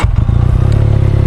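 A Benelli Leoncino 500 motorcycle fitted with an aftermarket exhaust fires up, its engine making a loud, deep, pulsing rumble right next to the listener.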